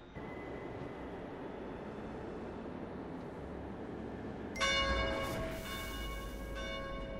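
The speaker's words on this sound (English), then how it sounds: "The bell tolls." A large bell tolls once in the Blade & Soul video game, a loud ringing strike with a long shimmering decay over a low, steady ambient rumble.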